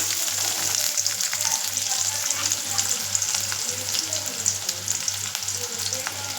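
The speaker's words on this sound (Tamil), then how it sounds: "சின்ன வெங்காயம் போட்டுக்கிறேன்." Small onions fry and sizzle in a hot pan, a loud, continuous crackle with a regular low pulsing hum beneath it, heard up close with no talking.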